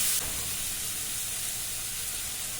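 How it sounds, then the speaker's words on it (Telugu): Onions and a handful of curry leaves frying in a pan for a spinach tomato curry, an even hissing sizzle, close and steady from start to end, with no speech. "కరివేపాకు కొంచెం వేసుకోండి, ఒక గుప్పెడు కరివేపాకు. ఈ విధంగా అయితే వేయించుకోండి."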